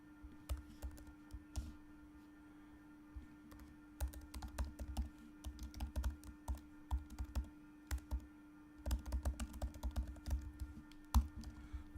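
Steady typing on a computer keyboard while entering Salesforce code, with irregular bursts of key clicks and pauses over a faint constant hum, no speech.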